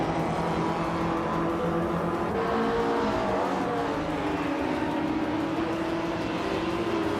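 A 1987 Ford Sierra RS 500 Cosworth racing engine in a driving game, a steady droning roar with shifting pitch as it holds speed, mixed with other cars on track and no talking.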